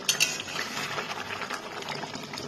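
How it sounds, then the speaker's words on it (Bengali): Marinated chicken and masala being stir-fried for biryani in a pan, with a steady close sizzle and spoon clinks against the metal at the start; no talking. "এবার আমি এটাকে ভালো করে কষাবো"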